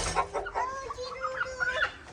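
A desi hen clucks repeatedly at close range, its short rising calls running one after another in a small home poultry setup, with no voices over them.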